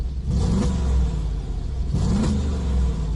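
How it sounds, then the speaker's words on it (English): A Mercedes-AMG G63 engine in comfort mode with its exhaust valves closed gives two quick throttle blips, each rising in a deep rumble and settling back to a steady idle, loud and close, with no talking. "Just have a listen to a couple of quick blips."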